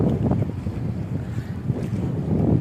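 Steady low rumble of a large boat's motor mixed with wind buffeting the microphone, continuous and fairly loud throughout, with a wash of water beneath.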